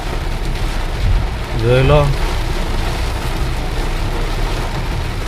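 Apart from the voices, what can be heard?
heavy rain falling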